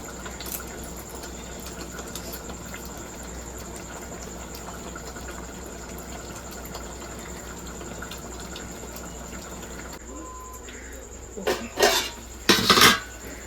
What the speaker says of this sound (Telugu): ఇలా ఉడికేటప్పుడే ఇలా తిప్పుతూ ఉండాలి